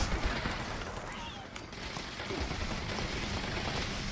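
Dense, sustained gunfire from the video game Fallout 76 rattles on continuously as a thick, rapid stream of shots throughout.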